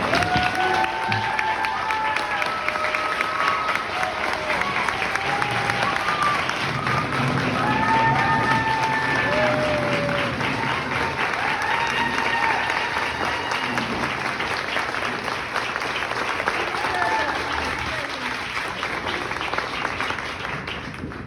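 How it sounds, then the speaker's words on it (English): An audience at a speech event by a state first lady gives a long, steady round of applause, with whoops and murmured voices rising over the continuous clapping. "Listen, Ruby let us clap for everybody except for Ruby. Give it up."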